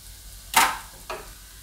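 A spoon stirs peas into a fresh turmeric curry in a pan, making two quick scraping, sizzling strokes, the first louder and longer than the second, with quiet kitchen background between them.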